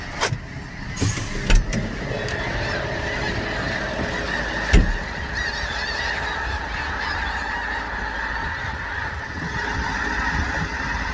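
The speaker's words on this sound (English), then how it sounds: "Look at all these snow geese." A flock of geese honks continuously at a moderate distance, with a few sharp clicks and a steady background hum throughout.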